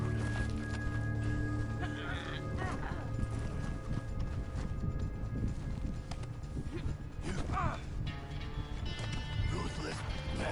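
Hooves clip-clop rhythmically as a horse gallops in Red Dead Online, with whinnying neighs rising over the hoofbeats and a continuous game soundscape underneath, at moderate volume.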